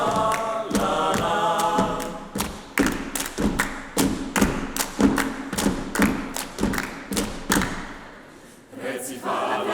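Children stomp on the floor in time with a Slovenian class song at a school singing festival, a steady run of loud, regular thuds over singing voices and music, pausing briefly near the end.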